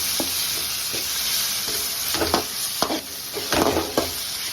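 Ginger garlic paste frying with softened onions in a pan for a crab masala, a steady close sizzle broken by several scraping stirs of a spoon.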